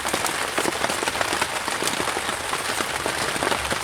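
Steady rain patters on a surface outdoors on a rainy day at Osage, a dense, continuous hiss of drops with scattered sharper taps throughout.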